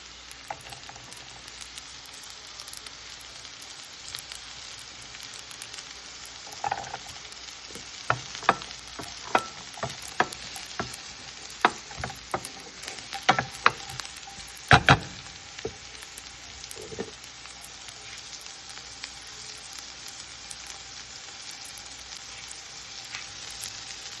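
Fried rice with onion and garlic sizzles in a pan in a steady, moderately quiet fry, punctuated by sharp spatula clacks and tosses clustered in the middle of the stretch.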